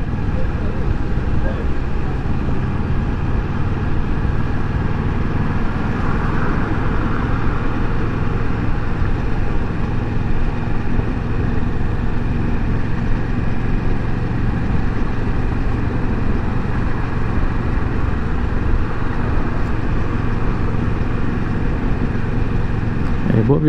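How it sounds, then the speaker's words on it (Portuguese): Slow urban traffic rolls along the beachfront avenue at Boa Viagem, a continuous mix of engine drone and road noise heard close up from a Kawasaki Versys 650 ABS Tourer 2018 motorcycle, with a voice talking over it throughout. "O trânsito por aqui sempre é assim, lento."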